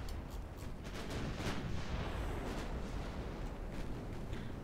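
Naval guns roar from a warship in a naval video game's French campaign, firing on enemy cruisers at long range: a dense, continuous rumbling barrage with a few sharper blasts, loud and steady throughout.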